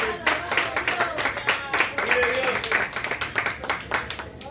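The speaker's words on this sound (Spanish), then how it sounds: "Denle un aplauso al Señor." A church congregation claps together, rhythmic and irregular hand claps filling the room, with crowd noise and voices mixed in under the applause.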